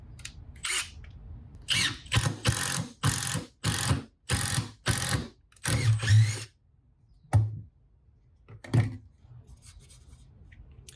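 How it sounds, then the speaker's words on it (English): A power drill fitted with a speed bore spade bit spins up in a series of loud, close bursts, about nine short aggressive runs boring through wood, then a few isolated quieter whirs with pauses between them. "There's our first hole with the speed bore. Very quick, very aggressive, very satisfying."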